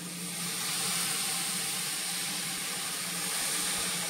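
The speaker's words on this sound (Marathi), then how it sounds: "जरासा पाण्याचा हपका मारतोय आणि हे झाकण ठेवलंय" Water is splashed over dal simmering in a pan, giving a steady soft hiss and sizzle that holds at an even level throughout, with no voices.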